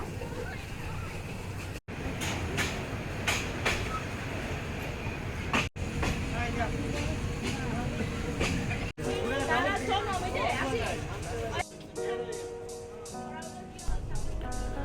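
Jayantika Express passenger train running on the Sylhet to Dhaka line, steady rumble with rhythmic rail-joint clacks and murmuring passenger chatter, then a tonal, music-like layer near the end.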